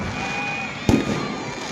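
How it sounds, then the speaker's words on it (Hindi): Fireworks at a Ramlila Dussehra celebration in Nainital: one sharp near burst cracks out over a steady crowd murmur, followed by a short rumbling decay. "कृपया आतिशबाजी प्रारंभ करवा दें"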